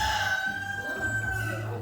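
A rooster on a farm lets out a single long, loud crow held steady for nearly two seconds, close and clear with faint background noise and no talking.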